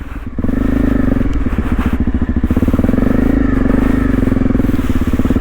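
A Honda CRF250 Rally motorcycle chugs steadily and loudly over boggy grass, its engine pulsing with a rough, even rhythm and occasional clattering.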